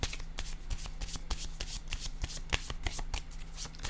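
A deck of tarot cards is shuffled by hand, giving a rapid series of crisp riffling snaps and soft slaps, close and clear with no talking.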